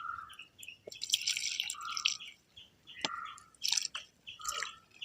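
Water pours and drips onto small potted bougainvillea plants in a garden, a series of quiet, close splashes and trickles with short pauses between them.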